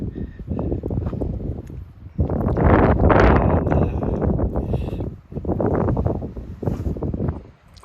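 Strong gusts of wind at a camp in southern New Mexico rumble and roar against the microphone, swelling and easing in waves, loud and close with no talking.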